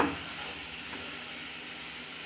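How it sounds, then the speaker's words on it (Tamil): Beetroot sautés in a pan for a Tamil beetroot poriyal, giving a soft, steady sizzle and hiss that stays even throughout, low in level with no talking. "பீட்ரூட் கொஞ்சம் நல்லா வதங்கட்டும்"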